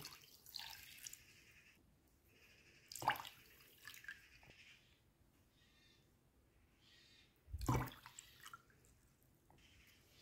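Water splashes into a pot with sugar in two or three brief pours separated by quiet pauses, with light dripping in between.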